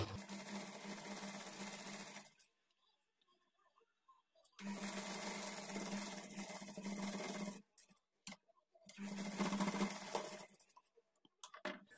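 A sewing machine stitches the inward-folded edge of a blouse in three sustained runs of rapid whirring separated by quiet pauses and faint clicks.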